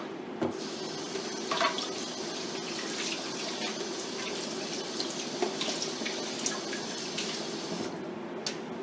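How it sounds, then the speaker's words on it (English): Tap water runs steadily into a chocolate-coated dish set in a kitchen sink to soak, a continuous close splashing rush with a few brief clinks of dishes along the way. "I'm just gonna put water in it just to soak the chocolate."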